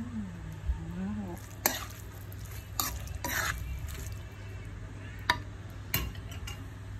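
Stirring bopis in a cooking pan, a faint steady sizzle with occasional clinks of a utensil against the pan and a low background hum, no talking.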